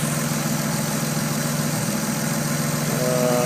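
A Toyota Supra 2JZ engine idling with a misfire, a loud, close, steady rumbling drone that holds for the whole stretch with no talk over it.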